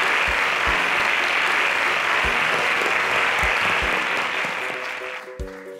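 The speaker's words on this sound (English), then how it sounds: "A round of applause for them." A studio audience at a Nigerian televised contest semi-final claps for departing contestants, sustained full applause that gradually thins and fades near the end.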